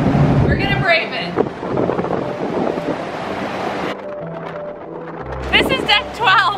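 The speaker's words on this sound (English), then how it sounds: "It's very windy out, as you can see" Strong wind roars and buffets the microphone on deck 12 of a cruise ship in rough seas off Alaska, with rushing water and voices talking intermittently over the gusts.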